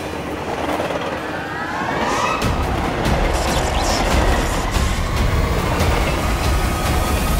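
A train runs steadily along rails, its loud continuous rumble and rhythmic wheel clatter building up and holding close by for the whole stretch, with no talk over it.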